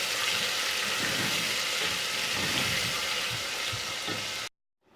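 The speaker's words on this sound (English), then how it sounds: "let's fry the onion until it turns light brown in color" Chopped onion fries in hot oil for a light-brown colour, a steady close sizzle with soft crackles and occasional stirring scrapes, cutting off abruptly near the end.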